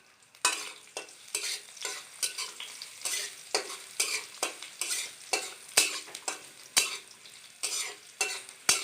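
Chopped garlic sizzling in a hot pan while a utensil stirs it, producing regular scraping strokes about twice a second over a steady frying hiss, close and clear, with no talking.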